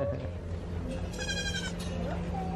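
Goats bleat close by on a farm, several wavering calls rising over a steady low hum, with a person speaking faintly in the background.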